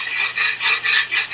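A metal fork rubs back and forth on a Blue Diamond nonstick pan, heard as a rapid, rhythmic scraping of about six strokes, close and loud.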